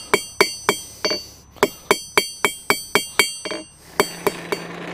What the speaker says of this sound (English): This is just a basic blacksmithing technique known as drawing out. I'm just taking the metal and making it longer.